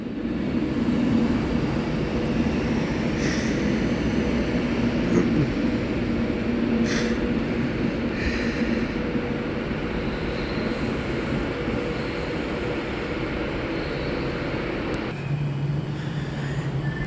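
An Avanti West Coast train on the West Coast Main Line at Carlisle station gives off a steady, loud rumble with rail noise, a low drone that holds for the whole stretch and then drops in pitch near the end.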